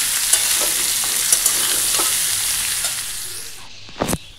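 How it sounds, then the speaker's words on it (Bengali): Chickpea ghugni with spices frying in a large wok on a small stove, a steady close hiss with a few scraping stirs, fading near the end before one sharp clatter, with no talk. "তো এই যে আমার ছোলা মশলা দিয়ে ভাজা হয়েও গেছে"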